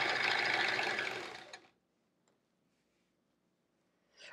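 A sewing machine stitches a quilt with a fast, close, steady mechanical whir that stops abruptly after about a second and a half. A brief tick follows in the quiet, then the motor starts up again.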